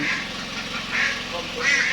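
A duck quacks repeatedly, three nasal calls spaced about a second apart over a low background hum, on a farm.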